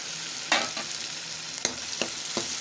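Tomatoes and green chillies tipped into onions frying in a pan, giving a steady close sizzle broken by several sharp stirring scrapes and splashes.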